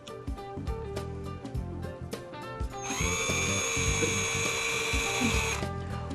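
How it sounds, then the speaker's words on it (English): A cordless power drill drives a screw halfway into a cornice frame, a brief tap and rattle first, then a loud close whine of the motor spinning steadily for about three seconds before stopping. "Now take your drill and place a screw in the center of each line that you traced"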